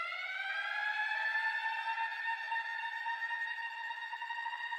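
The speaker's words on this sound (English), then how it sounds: "But I added this J Dilla siren." A J Dilla-style siren effect layered into a beat, a steady wailing tone with stacked harmonics that slowly bends upward, loud and continuous throughout with no talking.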